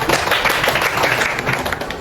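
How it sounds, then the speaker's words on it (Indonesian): Students in a classroom clap together, a quick burst of many hands with distinct close claps ringing out over a busy room. "Yang beri tepuk tangan untuk kalian semua dulu"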